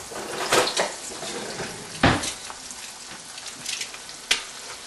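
Sliced squash and zucchini sizzle in a frying pan, a steady crackling hiss punctuated by a few sharp spattering pops, close by and unaccompanied by voices.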